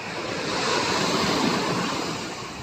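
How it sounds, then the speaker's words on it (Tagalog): Ocean waves rolling at sea near a boat by a harbor landing, a steady, loud roaring wash of surf with wind buffeting the microphone throughout, no voices. "Mga alon na yan."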